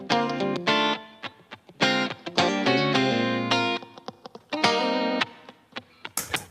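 Electric guitars played through a clean chain with no rack processor, bursts of chords and riffs with sharp stops and gaps, loud and upfront with no voices.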